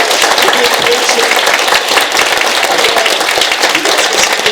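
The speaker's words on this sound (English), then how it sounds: "Give yourselves a round of applause." A comic con panel audience applauds in a dense, loud, sustained burst of clapping with some cheering mixed in, filling the room from start to finish.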